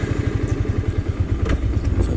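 A Yamaha R15 motorcycle being ridden, its engine giving a loud, close, rapid pulsing thrum with some clatter and no voices over it.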